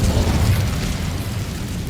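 An Incendio fire spell blasts in Hogwarts Legacy, a loud, dense roaring burst of fire that fills the moment and slowly eases off.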